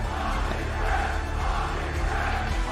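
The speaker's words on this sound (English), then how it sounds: "And the crowd is chanting." A large esports arena crowd at a competitive Call of Duty match chants and roars in a steady, dense wall of sound that stays loud and continuous throughout.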